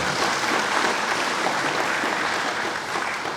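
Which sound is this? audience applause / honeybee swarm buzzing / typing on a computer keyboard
audience applause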